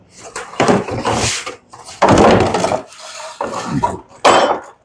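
The floorboard of a Can-Am Outlander 800 is trimmed by hand, with repeated loud scraping strokes in uneven bursts separated by short pauses, close by with no talking.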